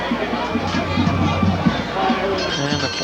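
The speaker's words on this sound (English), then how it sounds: "And the Pointers applaud that." A high school football crowd in a stadium cheering an offside penalty, a broad, sustained roar of many voices with children shouting mixed in, continuous and fairly loud throughout.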